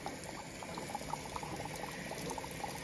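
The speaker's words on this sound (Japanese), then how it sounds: "うわ、泡でドライアイスやで、これ。" Dry ice bubbling and fizzing inside foam at a home birthday party, a dense steady crackle of small bursting bubbles close by, continuous and moderately quiet with no talk.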